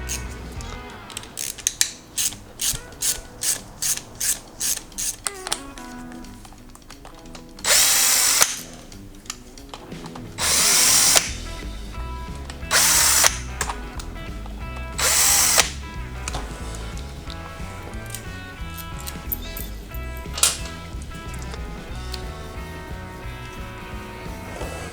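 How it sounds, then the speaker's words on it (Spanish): Screws being removed with a Torx T27 key from the charging system of a 1991-2003 Harley-Davidson Sportster: rapid rhythmic ratcheting clicks, then several loud short bursts of a tool whirring, with metallic clinks between them in a workshop. "vamos a quitar los 4 tornillos con una llave Tor,"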